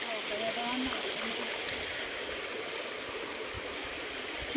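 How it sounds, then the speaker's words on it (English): A creek flows nearby in a rural provincial setting, a steady broadband rush and trickle of water running continuously at moderate level throughout. "And we are close to the creek."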